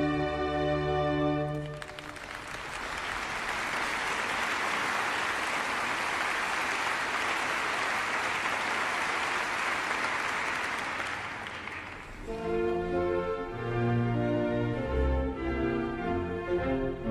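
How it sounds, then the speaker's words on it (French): A theatre audience at an 18th-century opera premiere bursts into sustained, even applause lasting about ten seconds between passages of orchestral music, heard fairly far off. "Mais le public adore, on l'applaudit et on vient féliciter l'auteur."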